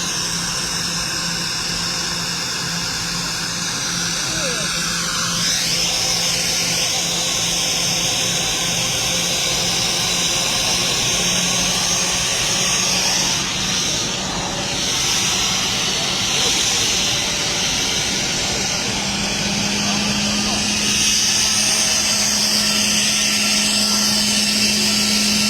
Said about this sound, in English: The flight will begin its taxiing.